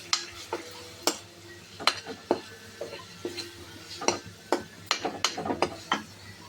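A spoon stirs masala powder through aloo biryani rice in a pot, making repeated scraping and clinking strokes against the metal with a faint sizzle beneath, close and fairly loud, with no talking.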